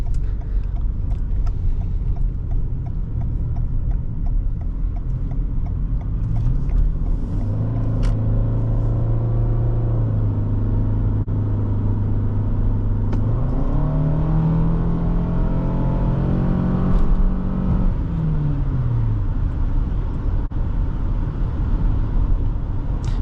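A 2023 Toyota Sienna LE Hybrid minivan drives steadily with a low engine hum and road rumble, the motor tone rising and falling smoothly as it accelerates.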